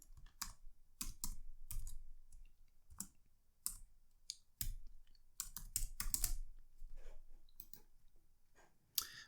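Keys clatter in irregular bursts on a computer keyboard as an answer is typed in, close and clear with brief pauses between clusters of clicks.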